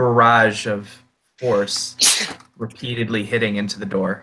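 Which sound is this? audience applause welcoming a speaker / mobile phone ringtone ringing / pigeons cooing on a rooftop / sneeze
sneeze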